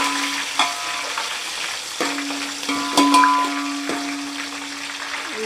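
Green chillies frying in hot oil with whole garam masala, a steady close sizzle with stirring scrapes and clinks of a spoon against the pan throughout.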